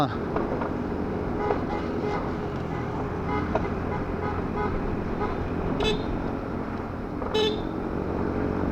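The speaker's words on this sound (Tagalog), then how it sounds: "Traffic na rin dito" Road traffic on the Halsema Highway near Bugias in the Cordillera, Philippines: a constant rumble of engines with two short car-horn toots near the end, over a voice in the background.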